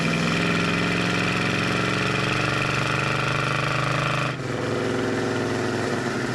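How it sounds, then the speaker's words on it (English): A 1971 Plymouth Roadrunner V8 rumbles steadily while driving, its loud, continuous engine drone holding a low throb before a brief dip near the end, with no voices over it. "The motor has plenty of power."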